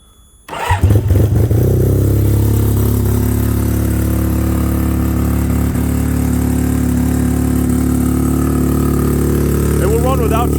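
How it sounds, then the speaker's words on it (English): A cold RE5 engine, started with the choke on, catches abruptly after a moment of quiet and settles into a loud, steady, close idle that continues unbroken to the end. "Here's a cold start video."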